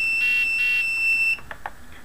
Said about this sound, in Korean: 현재 상태에서 부저는 울리는데